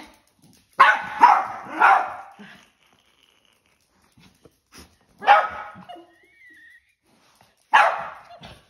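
Dog barking sharply at another dog as a scolding, three bursts of close, loud barks separated by quiet gaps, with faint whimpers and light background sounds between them.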